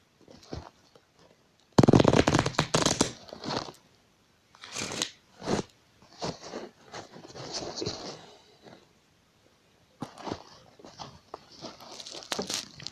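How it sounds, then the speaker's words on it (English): A deck of tarot cards is shuffled in several separate bursts of riffling and crisp flapping, close and moderately loud, with short quiet gaps between handfuls. "Let's shuffle the cards one more time."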